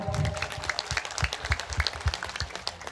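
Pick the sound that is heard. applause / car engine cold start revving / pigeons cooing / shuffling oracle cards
applause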